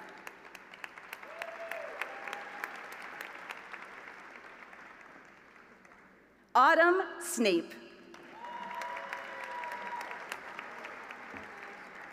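Graduation ceremony applause for Master of Science in Genomics graduates: a steady, distant hall-wide clapping runs throughout, interrupted midway by a name announced over the microphone before the applause continues.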